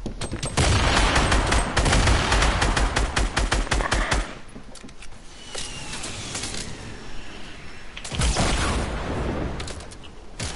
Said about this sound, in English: I hit shots like these on Fortnite.